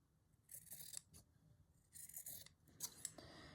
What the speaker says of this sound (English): Some fabric scissors would be good.